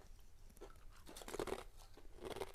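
Crisp, close crunches of thick Tyrrell's crinkly crisps being bitten and chewed, several loud bursts spaced over a few seconds with no talking.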